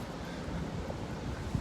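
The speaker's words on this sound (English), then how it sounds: "It's kind of windy today in Tokyo." Wind gusts outdoors on a breezy day in Tokyo, a low continuous rumble buffeting the microphone, steady and fairly faint.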